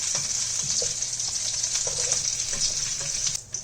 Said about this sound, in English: The potatoes are done frying. I have lowered the flame.